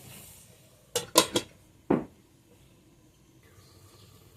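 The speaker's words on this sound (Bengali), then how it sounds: "ঢেকে দেব" A lid set over a pot of Bengali village-style curry with chal kumra (ash gourd), dal and spices gives a quick cluster of three metallic clatters, then one heavier clank as it settles, followed by quiet.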